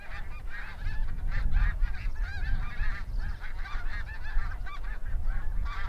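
Snow geese at Lac-Saint-Pierre in Quebec honk in a dense, continuous chorus, with many overlapping calls from a sizeable flock and no voices.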